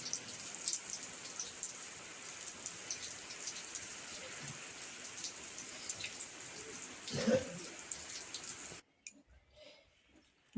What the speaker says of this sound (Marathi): आज परत पाऊस चालू झालेला आहे